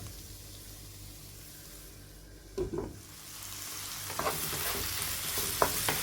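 Vegetables for shakshuka fry in a pan and are stirred now and then, a soft steady sizzle with a few scraping clatters of the spoon, growing slightly busier toward the end.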